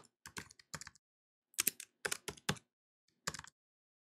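Someone types a password on a computer keyboard, a few close, crisp clusters of key clicks with brief silent pauses between bursts.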